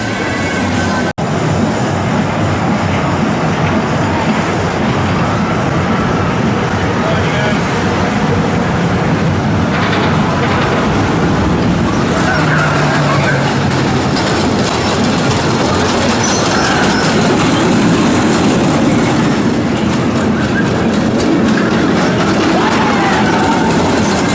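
A roller coaster train at Cedar Point rumbles along its track through the woods, a loud, continuous roar with shifting tones that builds slightly as it runs.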